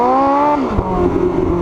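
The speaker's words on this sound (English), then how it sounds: "I'm in track mode right now, and it gurgles and it pops" A McLaren's top-exit exhaust in track mode, revving high then dropping off into a close, loud gurgle with a sharp pop and crackle, no voices.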